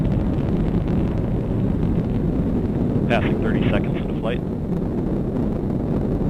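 An Atlas V rocket's RD-180 engine, throttled down to 67% thrust about 30 seconds after launching the AEHF 6 satellite from Cape Canaveral, makes a deep, continuous roar throughout, under a voice calling out flight progress.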